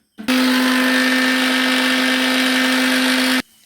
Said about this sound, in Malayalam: ഇനി നമുക്കിതൊക്കെ ഒന്ന് മിക്സിയിലെടുക്കാം.